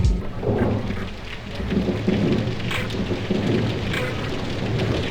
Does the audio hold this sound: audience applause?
no